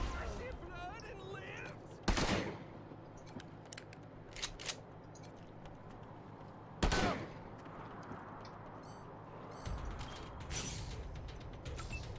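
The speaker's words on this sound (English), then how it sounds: "Let's use the shotgun ability." Shotguns fire in the Wasteland 3 video game, with two sharp, loud blasts several seconds apart and a few lighter clicks and mechanical rattles between them over a low game ambience.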